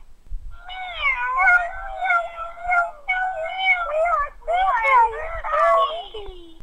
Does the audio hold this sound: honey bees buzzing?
no